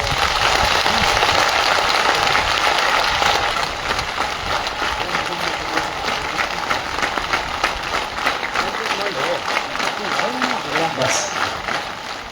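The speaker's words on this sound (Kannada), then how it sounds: "ಅದಕ್ಕೆ ಒಂದ್ಸರಿ ಎಲ್ಲರೂ ಸೇರಿ ಚಪ್ಪಾಳೆ ತಟ್ಟೋಣ." An audience at a devotional gathering claps together in a loud, sustained burst that eases to a softer, continuing patter after a few seconds, with voices mixed in.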